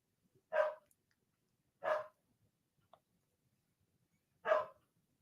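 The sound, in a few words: dog barking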